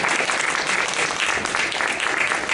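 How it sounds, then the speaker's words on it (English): Applause from a football team and gathered listeners, steady and dense throughout, a continuous wash of many hands clapping at close range with no pauses. "Come on now, clap for that"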